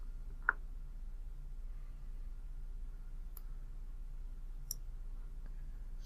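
A computer mouse clicks a few times while an order is placed, sparse sharp ticks spaced seconds apart against a quiet, faintly humming room.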